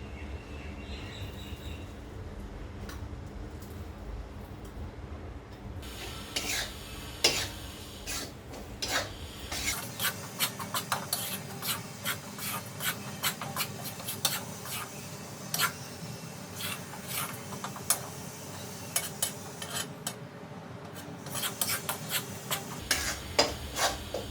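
Gram flour roasting in ghee in a pan over a low gas flame, stirred steadily with a spoon that makes soft rhythmic scraping and rubbing, close and fairly quiet.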